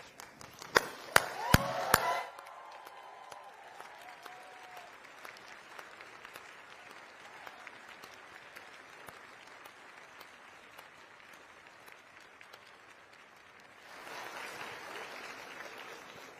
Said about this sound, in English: join me in thanking your family and friends with a hearty round of applause